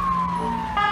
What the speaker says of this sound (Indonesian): lihat teman-teman, ada mobil ambulan